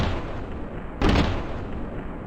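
A stomp sample stretched out and pitched down 12 semitones lands as one deeper, slightly longer booming hit, heard alone with no voices.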